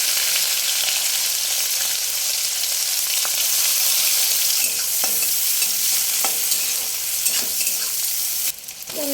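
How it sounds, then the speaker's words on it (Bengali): Onions and chilies frying steadily in mustard oil tempered with bay leaf and whole cumin, a dense, even sizzle throughout with occasional stirring scrapes, close and loud with no talk. "এবার এই যে পেঁয়াজ আর লঙ্কাগুলো দিয়ে দেবো।"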